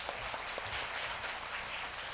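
An audience at an internship information session applauds two presenters with even, moderately soft clapping that continues steadily from start to finish, with no talking over it.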